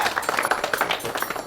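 Clapping from an audience welcoming a guest, a fairly sparse, uneven run of hand claps with distinct individual slaps, close and lively for the brief stretch.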